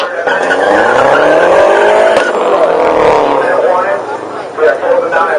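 An old green car drives past with a loud, sustained engine roar and tyre noise that swells and fades over several seconds, with voices mixed in.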